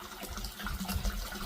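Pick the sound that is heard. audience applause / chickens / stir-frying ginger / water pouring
water pouring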